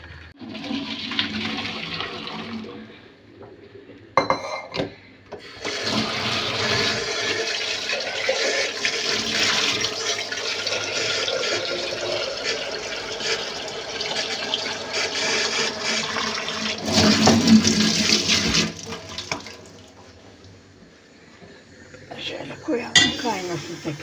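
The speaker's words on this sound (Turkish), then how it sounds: "Tekrar yeni su koyuyorum." Fresh water runs into a kettle being cleaned after boiling out, a steady rushing stream lasting most of the stretch, with occasional metallic clinks of the kettle and brief voices.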